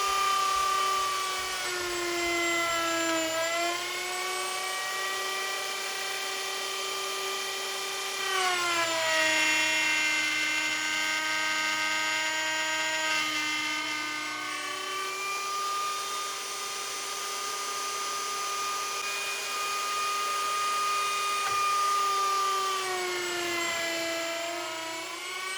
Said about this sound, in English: I plunge it down in, cut it like this, and then when I get to the end, I lift it back up out